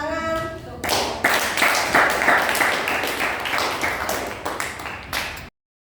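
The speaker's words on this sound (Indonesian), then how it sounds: "Beri tepuk tangan." Students in a classroom clap together in a brisk, close burst of applause that lasts about five seconds before cutting off abruptly.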